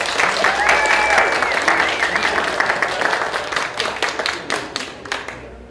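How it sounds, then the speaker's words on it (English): Applause welcomes Lori Wheeler onto the stage: a room full of people claps loudly and steadily, with a few cheers early on, thinning into scattered individual claps near the end. "So will you welcome Lori Wheeler with a big round of applause?"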